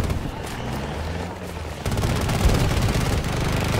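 Rapid gunfire from snipers and soldiers in a military shooter video game, bursts crackling at mid distance and growing denser and louder partway through, with a faint voice murmuring early on.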